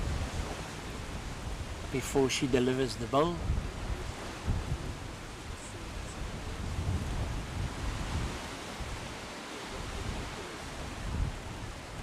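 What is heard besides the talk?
wind gusting outdoors at a lawn bowls match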